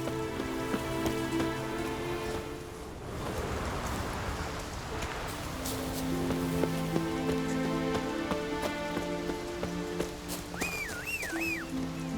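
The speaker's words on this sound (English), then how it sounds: "Raining again. Maybe we needed a spell of rain." Rain falling in the video game The Witcher 3: Wild Hunt, a continuous patter over steady ambient game music with tonal layers, and a short whistling or bird-like tone near the end.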